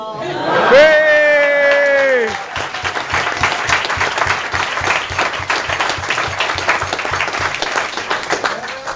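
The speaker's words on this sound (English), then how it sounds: "I'd like you all to give a big round of applause to introduce my brother" Wedding guests break into loud applause and cheering, with a whooping shout rising over the clapping at first, then steady dense clapping continuing close and full.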